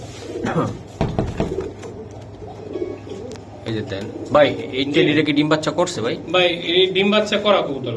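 Oman Teddy pigeons coo in soft, repeated low throaty calls close by, mixed with someone talking over them and a few sharp handling knocks.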